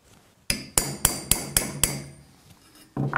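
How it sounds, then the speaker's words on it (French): Center punch struck with a hammer to mark a drilling point on a chrome tube: six sharp, ringing metallic taps in quick, even succession, close and clear, followed by a brief knock. "ce plat va me permettre de marquer au pointeau le point de perçage"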